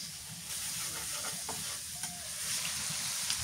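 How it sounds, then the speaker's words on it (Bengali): Tomatoes sautéing in a home pan give a steady broad sizzle with a few faint scrapes of stirring, constant and close throughout with no talk. "টমেটো সুন্দর করে কষাই নিলাম,"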